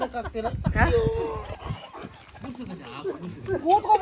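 A dog at an animal shelter gives short whimpers and soft yips close by while people chat and talk affectionately to it throughout.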